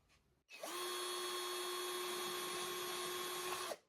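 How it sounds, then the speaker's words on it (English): A SeeSii 21V cordless drill bores holes, its motor spinning up with a sharp start into a steady, loud high-pitched whine that holds for about three seconds and then stops abruptly. "let's drill those holes."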